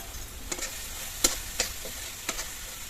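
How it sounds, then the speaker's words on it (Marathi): Masala paste of browned onion and coconut sizzling in hot oil for dry chicken cooked over a wood stove, a soft steady hiss broken by a few sharp spatters and stirring scrapes, close and fairly quiet with no voices. "मसाला चांगला भाजून घेत तेलामध्ये"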